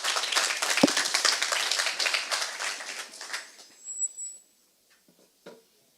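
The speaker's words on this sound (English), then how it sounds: "Round of applause" An audience at a business forum claps for a presenter, a close, lively burst of applause that holds for about three seconds, then thins and fades to a few scattered claps.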